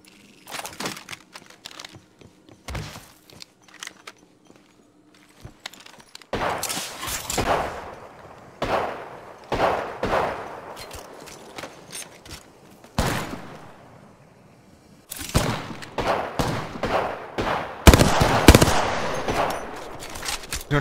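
Bursts of automatic gunfire from the Apex Legends battle royale shooter, loud and close, coming in repeated volleys with short gaps and growing denser toward the end, with no talk over them.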